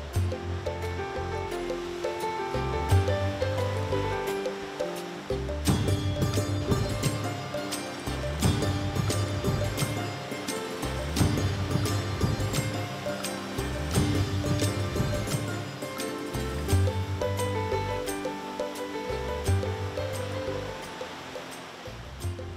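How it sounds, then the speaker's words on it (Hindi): Water in a stream crashes against rocks, churning into white foam, with a steady loud rushing roar that continues without a break. "पानी की धारा जब चट्टान से टकराला तो एकदम सफेद झाग पैदा होवेला बिल्कुल दूध नियर"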